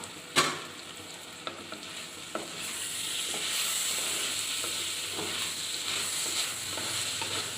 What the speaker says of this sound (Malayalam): ചെറിയ തീയിൽ വെച്ച് വേവിക്കുന്നു കരിഞ്ഞു പോയിട്ട് ഇടക്ക് ഇളക്കി കൊടുക്കണം